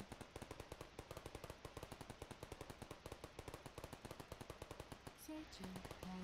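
An automated turret in a modded Minecraft Thaumcraft game fires a rapid, evenly spaced stream of sharp shots for about five seconds. A few tonal electronic beeps close it out.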